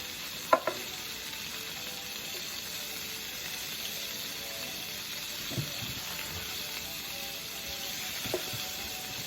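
Bacon cooking in a pan, a soft steady sizzle throughout with a few faint clicks and taps of utensils, no talking.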